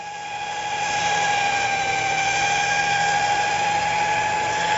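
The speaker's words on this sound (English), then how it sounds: "it just squeezes the pasta dough down to a nice flat. It takes a little bit of time but no effort, especially with the motor." A motorized pasta roller hums steadily as it flattens pasta dough for Dungeness crab ravioli, a continuous whirring drone that builds in the first second and then holds even and fairly loud with no talking.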